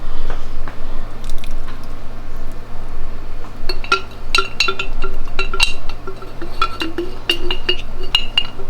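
Marinara sauce is poured and spooned onto homemade meatballs, giving wet squishing and sloppy plops mixed with sharp clinks of a utensil against the dish, fairly close and loud, with no talking.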